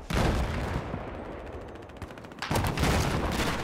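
Mortars, grenades and gunfire in a 32-versus-32 online video game match on the Locker map: dense, loud bursts of shooting and blasts, easing in the middle, then a heavy new barrage of crackling fire near the end.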